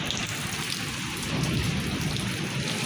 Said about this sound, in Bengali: এখানে প্রচুর বজ্রপাত হচ্ছে